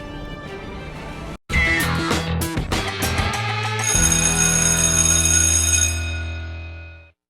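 A doorbell chime rings loud and alone, several bright tonal strikes followed by a sustained ringing tone that slowly fades out, with no talking.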